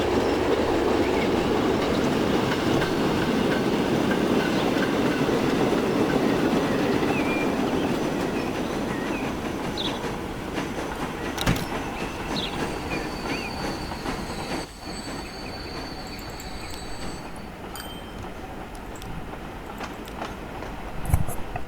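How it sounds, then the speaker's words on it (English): A passenger coach rides the rails in the Transport Fever 2 video game, with a steady, loud rolling rumble and faint wheel clicks that slowly thin out over the run. "Let's just get on a passenger coach here."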